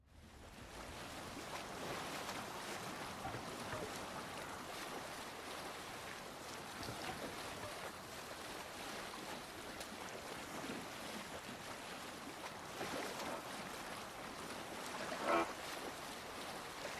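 A sailing ship in Assassin's Creed Valhalla cuts through the sea, giving a steady, fairly faint wash of waves and wind noise with one brief soft thump near the end.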